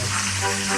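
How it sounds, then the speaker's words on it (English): Fish for Jamaican escovitch fries in hot oil with a loud, steady, close sizzle that holds without a break over a short stretch, and no voices. "Make sure them tail get fried good."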